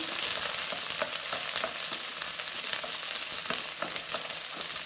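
Onions sizzle and crackle steadily in hot oil in a pan for an appalam gravy, a continuous close frying hiss with small pops and stirring sounds throughout, no voices.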